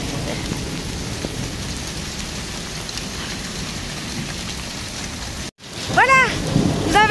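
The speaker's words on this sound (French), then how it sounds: "Quand il fait de l'orage, je suis en plein dedans, hein." Heavy rain pours steadily during a thunderstorm at a sanctuary, a dense, loud wash of noise with low rumbling. After a brief cut, high chirping tones sound over the continuing downpour.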